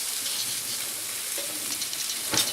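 Steak sizzles steadily in a hot pan, a continuous close crackling hiss with one brief sharper clatter near the end.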